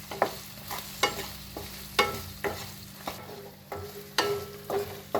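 Spoon or ladle scraping and stirring onion and green pepper sabzi with garam masala in a pan, about ten rhythmic strokes over a soft steady sizzle, close and alone with no talk.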